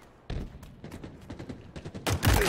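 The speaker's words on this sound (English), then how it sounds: "The guns sound very good, very honed in." Rapid gunfire from Halo Infinite, a dense run of sharp close shots in irregular bursts that builds to a louder, heavier blast at the end, with no talking.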